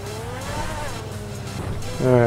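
Supercar engine revving in GTA 5, steady under a voice, ending in a loud harmonic whine near the close.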